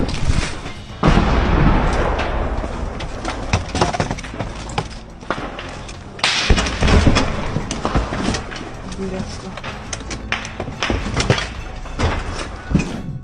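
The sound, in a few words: explosions and gunfire in war zone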